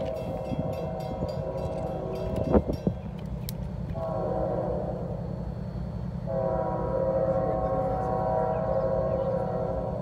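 A CSX freight train passes close by, its horn blaring in long sustained tones over the steady heavy rumble of locomotives and railcars, with a sharp metallic squeal briefly cutting through.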